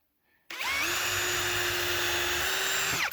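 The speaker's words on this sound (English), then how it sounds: "I come in with my drill first" A power drill whirs steadily at high speed for a few seconds drilling a pilot hole, starting abruptly and winding down at the end, loud and close with no talking.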